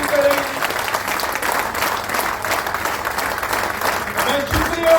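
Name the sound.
audience applause at a convention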